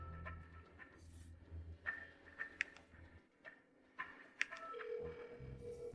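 A telephone dialing a number that fails to connect gives sparse, faint tone blips and clicks over a quiet background, with short beeps scattered across a few seconds. A longer steady tone sounds near the end, with no speech heard.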